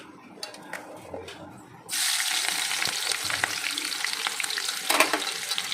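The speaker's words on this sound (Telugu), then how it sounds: "నూనె కాగింది ఫ్రెండ్స్ ఇప్పుడు ఇందులో ఉల్లిపాయలు వేసుకుంటాం" After a quiet start with a few light clicks, onions drop into hot oil and a loud, steady frying sizzle begins up close and keeps going with stirring.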